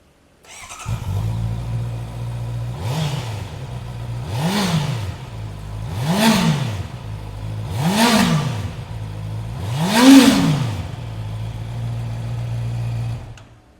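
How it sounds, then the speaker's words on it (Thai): A 2023 Honda CB650R inline four-cylinder motorcycle engine idles smoothly, then revs up five times in a steady rhythm, each rise and fall clear and close, the last rev loudest. "มา ขอฟังเสียงเครื่องยนต์ 4สูบเรียงหน่อยครับ"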